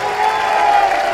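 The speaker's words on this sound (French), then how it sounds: "Vous pouvez les applaudir." Audience at a French regional election campaign rally applauding and cheering, a loud, dense wash of clapping from a large crowd.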